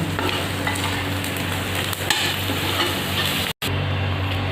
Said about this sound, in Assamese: এতিয়া এবাৰ লৰাই দিম।